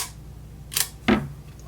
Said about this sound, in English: here's the shutter button. The shutter works.